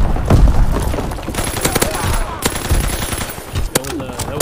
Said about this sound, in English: You and these damn LMGs.